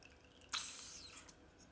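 Water flushed through the nib of a TWSBI 580ALR fountain pen gives a sudden close splash and hiss that tapers off over about a second, with a small drip after.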